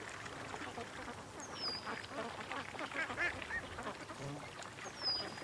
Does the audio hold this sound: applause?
no